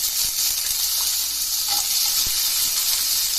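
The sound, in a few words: coconut frying in oil in a pan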